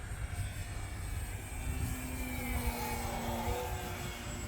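An Arrows Husky radio-controlled plane cruising at half throttle in windy weather, its steady propeller-engine whine drifting in pitch at moderate distance over continuous wind rumble, with no voices.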